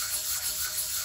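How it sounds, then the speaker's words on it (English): Sandpaper wrapped on a flat ground steel block rubs over epoxy granite lathe ways in one short, steady, close abrasive scrape. "block of ground steel that I have that's pretty flat with some sandpaper wrapped around it, and then just sanding off the high spots"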